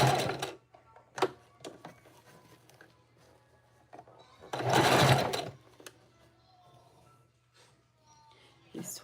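Sewing machine stitching wig wefts forward and then in reverse for a lock stitch, heard as short separate bursts of rapid needle chatter, the longest near the middle, with a low steady hum and quiet gaps between them.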